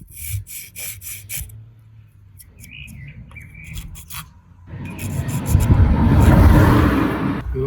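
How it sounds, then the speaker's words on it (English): A hand file rasps steadily against a metal part on a 2007 Fiat Bravo, trimming it to fit a bolt hole; the scraping is close and fairly loud in the second half, after a few faint chirps and light clicks. "I managed to file down this part here."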